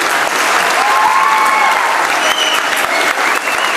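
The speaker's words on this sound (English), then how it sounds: "Give it again another round of applause." An audience at a holiday choral concert with an orchestra and piano gives a full, sustained round of applause, steady and loud from start to finish, with faint voices and a whistle or cheer poking through.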